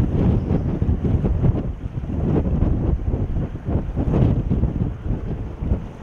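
Strong wind beside a canal buffets the microphone in a continuous low roar with gusty swells throughout, no voices.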